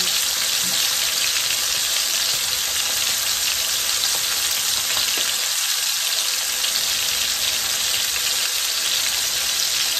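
Hamburger patties frying in a pan over medium heat give a loud, continuous, close sizzle with constant crackle and spatter throughout, with no voices.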